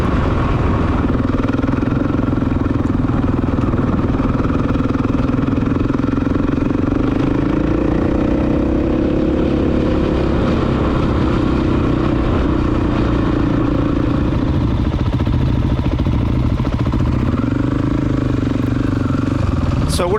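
Honda CRF300L dual-sport motorcycle riding a countryside green lane trail, its mid-pitched engine droning steadily and close throughout with a continuous rumble and some clatter, rising and falling slightly with throttle.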